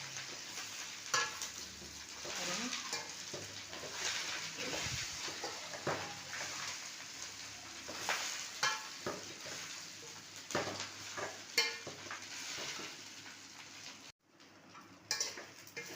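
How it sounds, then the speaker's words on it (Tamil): Curry leaves sautéing in oil in a kadai, a continuous low crackle and sizzle with frequent clinks and scrapes of a spoon stirring against the metal pan, briefly quieter near the end. "கடாயில் கொஞ்சம் எண்ணெய் விட்டு கருவேப்பிலையை அதில் போட்டு நல்லா வதக்கி எடுக்கணும்"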